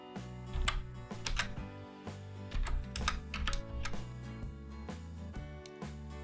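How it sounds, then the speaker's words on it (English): Rapid clicky keystrokes on a computer keyboard, typed in uneven bursts with short pauses, close and fairly clear. "And then I start typing in the numbers and hitting Enter between each of them."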